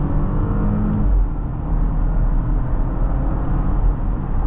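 A 2024 Porsche Cayenne accelerates in second gear, giving a steady low engine drone and road rumble heard from inside the cabin, loud and continuous with no voices.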